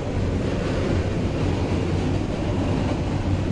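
Bangladesh's Parabat Express passenger train running on the Sylhet line, a steady loud rumble of wheels and carriages rolling along the track throughout, with no voices.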